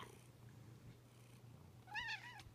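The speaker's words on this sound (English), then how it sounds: "Still purring. Pretty loud, Mortimer." A black cat purrs in a low, steady, close rumble on a bed, quiet overall, then lets out a short meow near the end.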